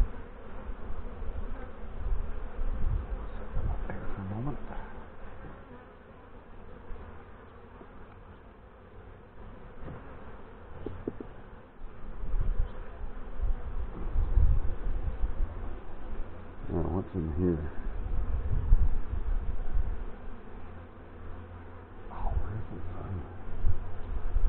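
Honey bees buzz around an open hive during a May beekeeping inspection, a dense fluctuating drone close by with occasional louder passes and soft handling noises.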